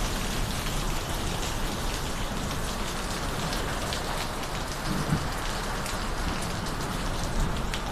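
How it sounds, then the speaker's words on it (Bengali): Heavy rain pours steadily onto surfaces outdoors during a thunderstorm in Guwahati, a dense, unbroken hiss at moderate loudness throughout with no voices. "দেখেন কীরকম হারে বৃষ্টি পড়ছে, দেখানো যাচ্ছে না, খুবই বৃষ্টি পড়ছে।"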